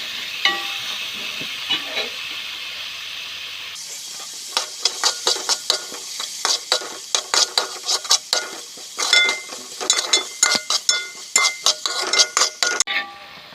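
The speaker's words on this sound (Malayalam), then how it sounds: "സവാളയാണ് ആദ്യം വാട്ടുന്നത്." Onions sautéing in a pan for tomato rice: a steady sizzle with quick bursts of a utensil stirring and scraping against the metal, close and continuous, with no speech.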